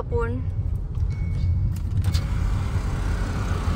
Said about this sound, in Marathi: गाडी बघा अमित कसा पुढे घेऊन चाललाय, एकदम जपून.